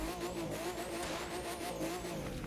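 An RSR race car's engine revs up and falls back through several cycles, with a rising and falling whine over a rough low roar, heard steadily and from close by, with no talking.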